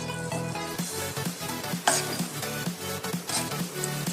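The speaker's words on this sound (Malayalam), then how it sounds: "ഇനി നമുക്ക് നന്നായിട്ടൊന്ന് മിക്സ് ചെയ്ത് കൊടുക്കാം." Chicken biryani with ghee poured over it gets mixed in a pot, a rhythmic series of spoon scrapes and knocks over a low sizzle, close and moderately loud with no speech.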